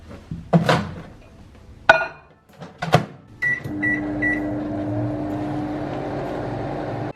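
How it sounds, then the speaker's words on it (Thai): A microwave oven heating Oreo cake batter: a few clunks and clicks from the door and buttons, three short beeps, then a steady low hum as the oven runs. "เราก็จะเอาไปเวฟ1 นาที ครึ่ง จน ถึง 2 นาที"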